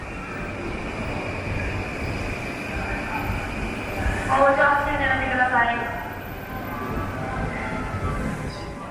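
A Tokyo commuter train rumbles in a low, continuous drone, with squealing tones rising around the middle as the carriage moves. A voice talks over it.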